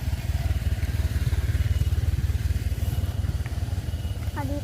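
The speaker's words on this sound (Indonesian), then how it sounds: "Banyak motor" Motorcycles on a road in a mountain village in Sunda, a steady close engine drone and rumble with light clatter, going on without a break throughout.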